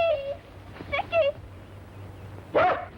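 A dog gives short yips and whimpering barks, a few close bursts spaced over the moment, mixed with people speaking and calling out in the same scene.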